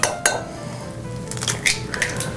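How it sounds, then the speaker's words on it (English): Eggs being cracked and dropped into a mixing bowl while making waffles, with sharp clinks and taps of shell and utensils against the bowl, a few distinct knocks spread over a quiet kitchen background. "Now we're going to mix the eggs in the bowl, 2 eggs."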